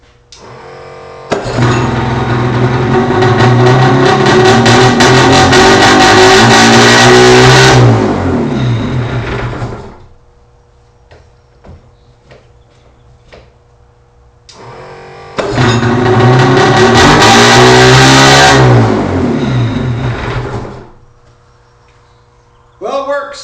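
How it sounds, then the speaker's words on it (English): A Suzuki Wetbike engine, sitting in storage since 1997, runs in two loud bursts, revving up and then settling into a slightly fast idle, with quiet gaps between and a voice briefly at the end. "She runs. She's idling a little quick."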